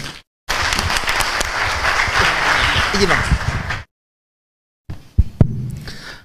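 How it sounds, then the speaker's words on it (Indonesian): Audience at a talk applauding a guest speaker, a loud, dense round of clapping that cuts off abruptly, followed after a short silence by a few stray sounds and a voice. "Tepuk tangan semua."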